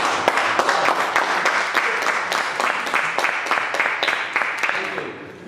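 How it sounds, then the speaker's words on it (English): An audience at a Toastmasters meeting breaks into steady applause at the end of a timed debate demo, many hands clapping together in a lively, sustained patter that slowly thins toward the end. "the timer claps and the entire audience claps"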